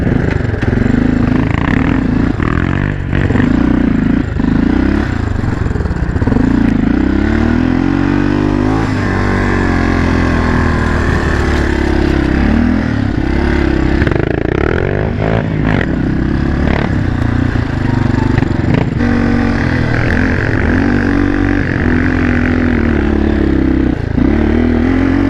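A loud, cheap four-wheeler ATV engine revs hard and unevenly while climbing a hill, close and constant throughout, with clattering and scraping over the droning motor.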